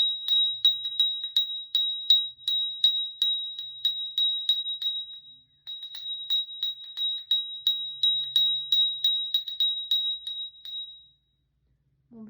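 A small hand bell rung steadily while walking three circles around a druid's altar, bright regular strikes with a short gap midway, then the ringing stops near the end.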